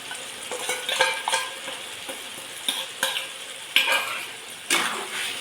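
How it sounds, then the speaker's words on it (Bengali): Spice paste and melted tomato for a Rajasthani curry are stirred and fried in a pan, with a soft, steady sizzle broken by the scrape of a spoon at irregular moments, close and fairly quiet, with no talk. "এইটা এখন আমি ভালো করে মশলাটাকে কষিয়ে নেব।"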